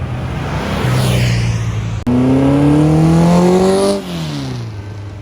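A Volkswagen pulls out in a cruise rollout of muscle cars, trucks and VWs, its engine revving up through rising gears close by, then easing off as it moves away.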